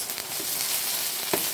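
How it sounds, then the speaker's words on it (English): Eggs frying in a hot pan with a steady broadband sizzle, a soft scrape and one brief spatula knock as they are flipped, close and alone. "Because my husband doesn't like soft eggs, so we're going to flip this."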